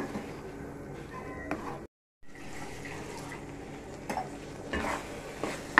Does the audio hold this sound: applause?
no